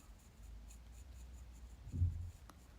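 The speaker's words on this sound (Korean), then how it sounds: "이렇게 에보니로 눈썹 결을 따라서 에보니로" An ebony pencil is stroked along the eyebrow hairs while elderly-style makeup is applied, giving a faint, close scratchy rasp with one slightly louder stroke near the end and no talking.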